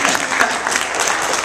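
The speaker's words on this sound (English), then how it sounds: "Give you a round of applause for helping me." A church congregation gives a round of applause during announcements, a short, steady burst of many hands clapping at close range.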